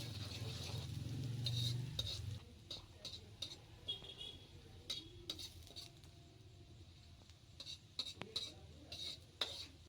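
Manchurian gravy stirred in a pan, a soft low sizzle early on, then light scraping and metallic clinks of a spoon against the pan, fairly quiet and close.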